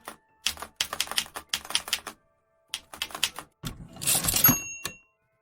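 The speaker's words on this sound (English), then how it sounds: "Later, he took a sheet of paper and used the old brother typewriter in his office to hammer out a will for Kathleen." An old Brother typewriter clacks in an office as keys are hammered in rapid bursts separated by short pauses, followed by a louder carriage-return-like rattle and a bell-like ding, close and alone.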